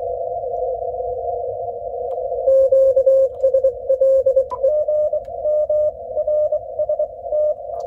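CW Morse sidetone from an ICOM IC-7300M transceiver: a steady pure tone around 600 Hz, first held continuously, then keyed into rapid Morse dits and dahs at close, clear loudness with no voices.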